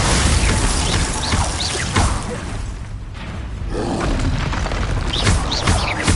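Booming spell explosions from Hogwarts Legacy's Bombarda curse, a loud continuous roar of blasts and crashes with a brief lull midway, dense and close throughout.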